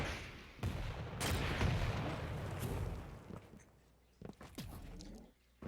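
Rocket blasts and machine gun fire from a Quake Pro League match come as a dense roar of shots and impacts, then thin out into scattered sharp bursts.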